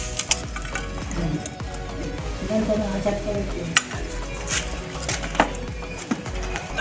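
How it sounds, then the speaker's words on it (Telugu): A pot of fish curry is stirred over a wood-fire stove, with steady sizzling and scraping strokes and sharp clinks of a spoon against the vessel, a faint voice underneath. "రాజావారి చేపల పులుసు కట్టెల పొయ్యి మీద వండుతున్నారన్నమాట"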